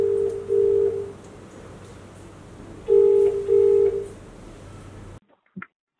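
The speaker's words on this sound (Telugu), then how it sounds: "సరే, కాల్ చేద్దామా? నీ ఫోన్ నుంచి వచ్చి" A phone call is placed from a mobile, giving two bursts of steady ringback tone over faint background noise before the line cuts to near silence.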